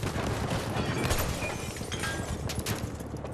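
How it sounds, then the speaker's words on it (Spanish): Battlefield 1 battle ambience: a dense, constant din with a few sharp reports of gunfire cracking through around the middle and near the end, none standing out much from the noise. "nos están disparando y no sé desde dónde"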